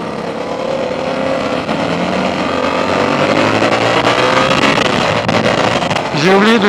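A 2024 Yamaha R7 motorcycle with its stock exhaust runs steadily at close range, a continuous engine drone that rises into a revving sweep at the end, with someone talking over it.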